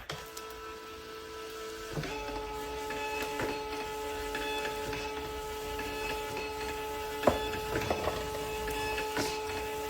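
Label printer feeding out shipping labels, a steady mechanical whir with tonal motor hum and a few sharper clicks and clunks near the end, close and moderately quiet with no talk.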